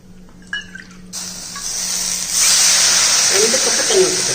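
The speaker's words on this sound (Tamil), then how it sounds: "இப்போ இதில் அளவு தண்ணி ஊற்றிக்கிறோம்." Water pours steadily into a cooking pan holding wheat rava, a loud hissing splash that swells and continues, after a few faint kitchen clinks and a brief voice.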